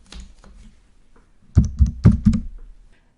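Fast typing on a computer keyboard, a quiet patter of taps followed by a louder, closer burst of clattering keystrokes, with no one talking.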